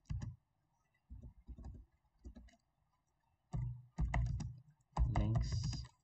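Keys on a computer keyboard clack in short irregular bursts of typing, close and fairly quiet, with silent pauses between the clusters of keystrokes.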